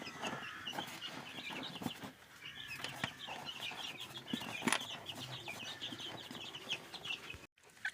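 Caged poultry on green grass in a village yard cluck and call steadily through the whole stretch, with occasional wing flaps and scratching close by and no talk.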